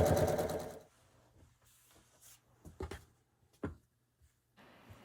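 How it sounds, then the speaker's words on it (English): A home sewing machine stitching rows of a quilt block, with a short whirring run at the start followed by quiet, scattered clicks and brief bursts of stitching. "So we're just going to sew three rows and sew the rows together."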